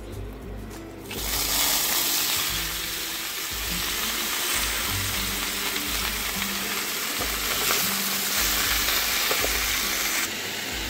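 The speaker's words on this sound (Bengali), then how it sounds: "সিদ্ধ করে রাখা এঁচোড় আর আলুটা দিয়ে দিতে হবে এবারে" Boiled young jackfruit and potato hit hot oil seasoned with whole cumin, dried red chillies and bay leaves, setting off a loud, steady sizzle that rises sharply after a quiet first second and holds close throughout.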